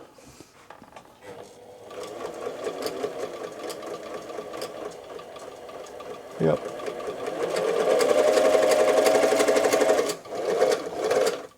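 A Singer 247 sewing machine is plugged in and run, starting quietly and building to a steady mechanical whirring hum with a sharp knock partway, then briefly dropping before running again; a person says a word under it.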